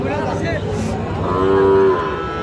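A cow lets out a long, loud moo amid a busy outdoor din of people and other livestock at Raniganj cattle market.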